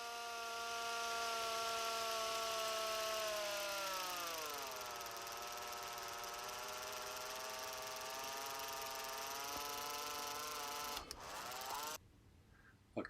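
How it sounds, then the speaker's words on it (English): A power drill whines steadily at high pitch while drilling a hole in the bottom of a model tree trunk, slowing and dropping in tone midway, then cuts out abruptly near the end. "we'll drill a hole in the bottom of the trunk that the brad can go into"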